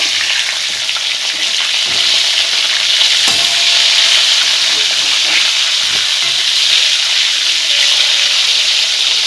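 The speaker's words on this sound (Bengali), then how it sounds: "এবার মাছগুলো উল্টে নেবে" Catla fish pieces fry in a pan of oil with a loud, steady sizzle close by. A few scraping knocks of a utensil mark the turning of the pieces, and no one talks.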